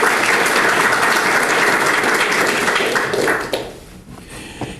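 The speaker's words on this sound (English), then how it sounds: "I will want you to give a great round of applause for Mrs. Ramola Motwani." A lecture-hall audience applauds a guest speaker at a distinguished lecture event, a steady, dense wash of clapping for over three seconds that then tapers off into a few scattered claps.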